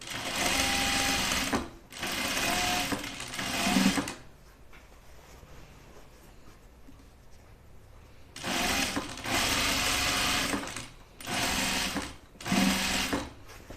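A sewing machine stitching a reversible button-up shirt, running in loud close bursts of rapid whirring with pauses between, one long quiet gap in the middle.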